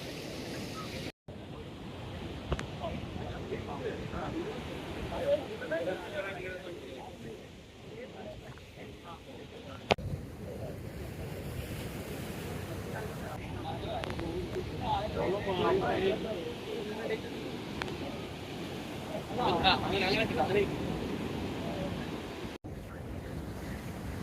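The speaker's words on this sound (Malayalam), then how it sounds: "തിരമാലകൾ നല്ല ശക്തിയായിട്ട് അടിച്ച് തന്നെ വരുന്നുണ്ട്" Rough surf rolls and breaks steadily near a lighthouse at Chettuva, with gusts of wind buffeting the microphone throughout.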